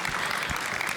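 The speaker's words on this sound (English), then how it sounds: "So, y'all can clap." Brief audience clapping at a live teen talk show event, a short, even patter of many hands at moderate volume with no voices over it.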